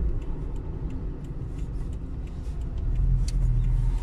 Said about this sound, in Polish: tutaj cały czas jest ten ruch ciężarówek